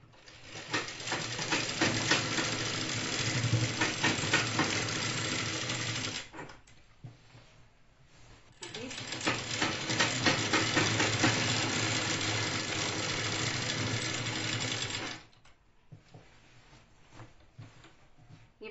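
A sewing machine stitches a chudidar top in two long, steady whirring runs separated by a short pause, loud and close, with no talk.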